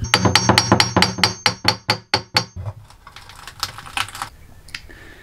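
A rapid series of sharp metallic hammer blows on a boat part, about a dozen evenly spaced strikes, then a few scattered lighter knocks and scraping.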